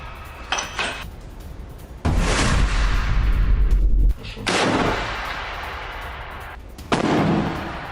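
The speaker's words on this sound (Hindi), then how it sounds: "गाजा में इजरायली सैनिक पर हुई फायरिंग की ये तस्वीर सामने आई है।" Gunfire at an Israeli soldier in Gaza, from news footage: a few faint cracks, then loud, heavy booming bursts with long, echoing decays.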